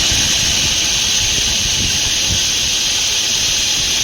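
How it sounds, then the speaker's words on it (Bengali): A kitchen blender whirs continuously, blending onions for a chicken dish, with a loud, steady motor whine and a hissing rush that stays even throughout. "ব্লেন্ড করে নিই।"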